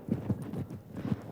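A ridden horse's hooves clip-clop in a quick, even rhythm of soft thuds on the ground, fairly close and moderately loud across the short stretch.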